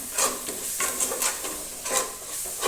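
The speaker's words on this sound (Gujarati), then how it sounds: "તો હવે આપણે ચટણી નાખીશું લસણવાળી ચટણી આપણે થોડી વાર બરાબર હલાવતા રહીશું" A spoon stirs fenugreek greens with garlic chutney in a sizzling pan, scraping in a loose repeated rhythm over a constant close frying hiss, with no talk.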